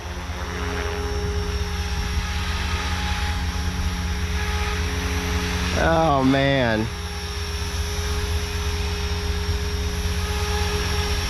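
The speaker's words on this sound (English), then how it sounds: "I am loving the helicopter though" A Blade 500 3D RC helicopter hovers and flies with a loud, steady rotor and motor whine that swells briefly in pitch midway, while someone speaks over it.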